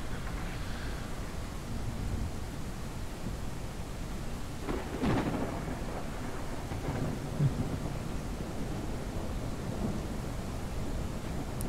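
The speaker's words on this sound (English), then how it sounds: "The thunder out in the distance." Distant thunder from a storm in the farming game Ranch Simulator, a low, broad rumble rolling steadily across the whole stretch with slightly stronger swells midway, no voices.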